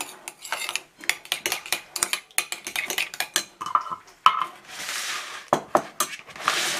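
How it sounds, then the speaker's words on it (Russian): A spoon scrapes and clinks rhythmically in a bowl while stirring a thin mayonnaise dressing with lemon and wine vinegar for a shrimp salad. The taps and scrapes are close and clear, with a brief pause partway through and no talking. "Я добавила немного лимона и добавлю немного уксуса винного. Все это перемешаем."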